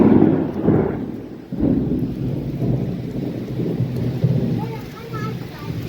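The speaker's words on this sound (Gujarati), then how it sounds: "કુતિયાણા તાલુકાના હેલાબેલી ગામમાં વરસાદ અત્યારે આવે છે, ચાલુ છે." Rain pours over a village in Kutiyana taluka, Gujarat, a steady close wash with deep rumbling swells of thunder rising and fading throughout.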